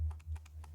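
Short, quick run of computer keyboard keystrokes, about five light clicks in under a second, close and clear with a low hum underneath, while someone plays Football Manager 24 on a PC.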